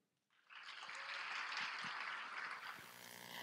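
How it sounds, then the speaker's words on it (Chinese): An audience at a Basic Law lecture breaks into applause to welcome Elsie Leung, a dense, even roll of clapping that starts abruptly and fades out after about two seconds, fairly faint and distant. "我们以热烈的掌声欢迎梁爱诗女士"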